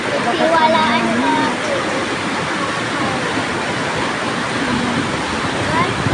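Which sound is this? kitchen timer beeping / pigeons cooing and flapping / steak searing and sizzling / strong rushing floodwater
strong rushing floodwater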